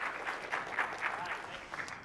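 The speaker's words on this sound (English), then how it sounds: "Applause for Ryan, please." A tech event audience claps for a presenter in a short, steady round of applause, moderately distant and even throughout.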